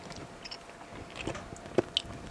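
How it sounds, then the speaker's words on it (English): Hard super sour candy being chewed up close, with soft irregular chewing and a few sharper crunchy bites and mouth clicks, fairly quiet with no talk. "It's hard to chew."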